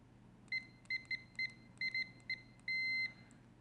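Continuity-test beeps from a UNI-T UT39C+ multimeter: a string of short, clear electronic tones at uneven intervals, ending in one longer held beep, close up and alone over a faint background.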